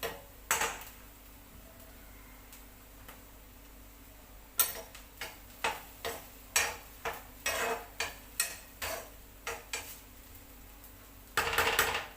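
A spoon scrapes and taps against a pan while stirring an amaranth-bean stir-fry, a series of distinct rhythmic clinks over a quiet background.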